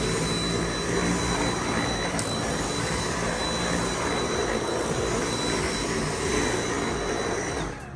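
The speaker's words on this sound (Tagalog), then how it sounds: "Tapos vacuum ng floor." A household vacuum cleaner runs on soft carpet while a house is being cleaned, a continuous loud, close whooshing roar with no speech for the whole stretch.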